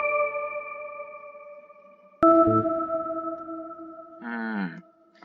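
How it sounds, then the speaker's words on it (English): Sustained synth tones sound alone, with a sharp new note whose delay-effect echoes trail behind it and a wobbling burst near the end. "I'm not sure if you could hear the delay very well. Let me yank it up."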